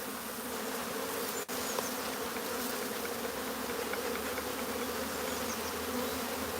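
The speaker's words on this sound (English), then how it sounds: "And then the bees run out the front into the hive." Honeybees pour out of a nuc box into a hive during a transfer, making a dense continuous buzzing drone, close and steady throughout, with one brief knock early on and no voices.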